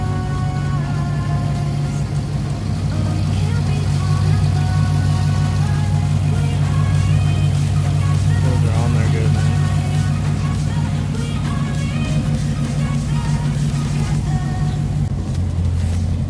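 A Dodge Challenger Scat Pack with the 392 V8 and a newly fitted oil catch can runs at a steady, close, loud idle with a constant low rumble and a slight change in tone near the end. No one speaks.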